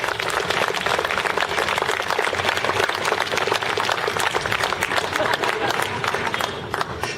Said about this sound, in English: I'd like for all of us to begin this by giving our Dean a round of applause